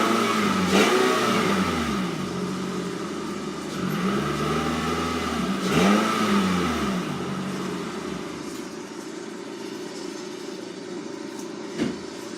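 A 2010 car's engine runs and revs steadily as it pulls into a garage, with rising and falling pitch sweeps over a continuous low rumble, close and moderately loud, no talking.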